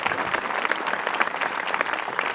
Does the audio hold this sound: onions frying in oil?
no